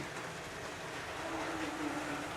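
A D&RGW P44 model train engine runs steadily on its layout, a soft continuous rumble and whir at moderate distance with no talk over it.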